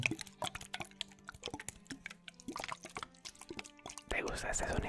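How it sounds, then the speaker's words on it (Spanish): Water drips and plops softly in close, irregular taps with quiet liquid splashes, followed by a short pouring sound, with a voice speaking softly in the background, in an ASMR setting. "¿Te gusta el sonido del agua?"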